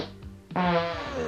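A single fart in a comedy dub of 1980s stretching footage, a short buzzy burst that rises suddenly and holds for under a second over a faint background.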